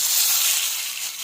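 Pointed gourd paste sizzles in a hot pan with black cumin as it is stirred, a steady close hiss with no talking.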